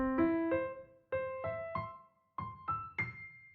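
Solo piano plays short groups of rising notes, broken by brief silent gaps between groups, giving a halting, choppy feel.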